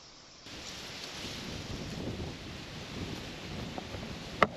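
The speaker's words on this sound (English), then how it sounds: "that was way too windy" Strong gusting wind buffets an outdoor microphone, a broad rushing roar that rises and swells after a quiet start, with a sharp knock near the end.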